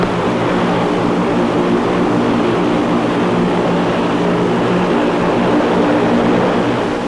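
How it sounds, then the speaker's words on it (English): The aircraft's engines run continuously at the South Pole, a loud, steady propeller drone with a constant roar throughout and no talk. "Engines must be kept running."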